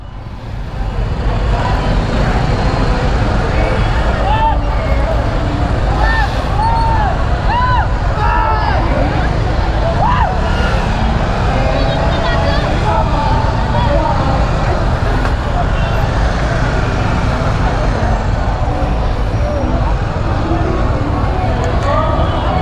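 Dense, steady road traffic in a jam during Holi festivities, a continuous loud rumble of engines with scattered horn-like tones, under ongoing talk throughout.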